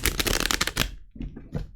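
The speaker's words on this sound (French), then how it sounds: "Alors on part pour un tirage en 6 cartes." Tarot cards riffled in a burst of dense, rapid papery flutters for the first second, then a few softer card slides and taps nearby with no talking.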